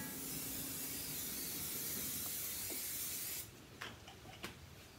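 Cooking spray hisses steadily into an old cast iron skillet for about three and a half seconds at close range. It then stops, followed by a few faint clicks and handling knocks.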